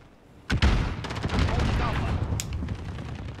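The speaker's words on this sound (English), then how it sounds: "He had a minigun, I don't know how he got that." Sustained minigun fire in the video game Modern Warfare, opening with a sharp blast and rolling into a dense, continuous roar of rapid shots that stays loud for several seconds.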